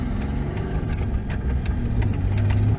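A Jeep Wrangler JKU engine rumbles low and steady as the clutch is eased in gently on a rough track, a close, loud idle-like drone that rises slightly near the end.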